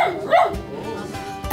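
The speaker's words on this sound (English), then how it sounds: "Sammy, you're barking better." A recovering dog, once paralysed, gives a few short barks and yips at close range, mixed with a whimpering, voice-like tone in a quiet veterinary setting.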